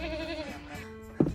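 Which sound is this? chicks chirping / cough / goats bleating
goats bleating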